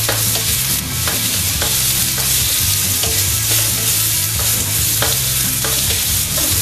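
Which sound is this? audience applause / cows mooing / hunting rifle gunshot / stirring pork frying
stirring pork frying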